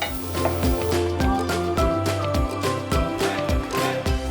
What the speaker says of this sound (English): we're going to saute them right on into that rendered bacon fat